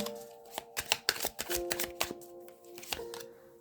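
Tarot cards being shuffled and laid down, with a close, uneven run of soft riffling slaps and flicks and no talking over it.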